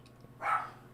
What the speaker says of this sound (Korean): 밖에서 개가 짖고 있고